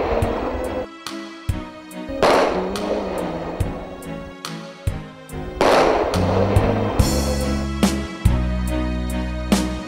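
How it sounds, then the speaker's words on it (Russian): A ceremonial rifle salute fired at a memorial rally marking the liberation of Slavyansk-on-Kuban from German fascist occupation: a series of about a dozen sharp, loud volleys at irregular intervals, each ringing out with echo, no talk. "прозвучал оружейный салют"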